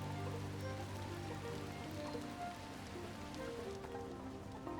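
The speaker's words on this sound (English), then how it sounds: "Oh no, it's raining." Rain falls in the video game The Midnight Walk, a soft continuous patter over a low ambient musical drone, with no voices.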